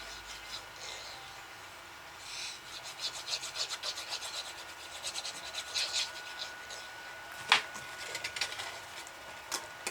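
A handmade cardboard Ferrero chocolate box is glued and pressed by hand, giving soft, faint rubbing and scraping strokes with one sharper tap near the end.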